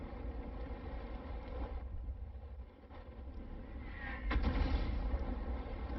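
Artillery fire in the World of Tanks video game, a muffled low boom and rumble over a droning engine background, with a louder blast toward the end.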